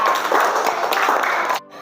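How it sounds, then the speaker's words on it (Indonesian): Students clap for their classmates at the front of a classroom, a dense round of applause that runs steadily for over a second and a half, then stops sharply. "kasih tepuk tangan dulu buat teman yang di depan"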